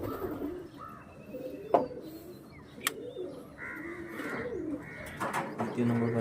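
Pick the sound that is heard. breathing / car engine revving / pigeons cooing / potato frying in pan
pigeons cooing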